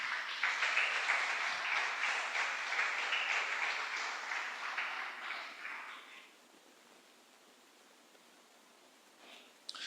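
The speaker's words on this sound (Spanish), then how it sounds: "Denle un fuerte aplauso al Señor" A church congregation applauds during a sermon with a burst of fairly loud, dense clapping that fades out after about six seconds into quiet room tone.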